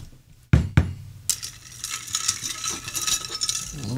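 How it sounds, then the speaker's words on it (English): A root beer cocktail stirred in a glass: two sharp clinks at the start, then a steady soft fizzing and light rattling of the stir running on alone. "A little stir."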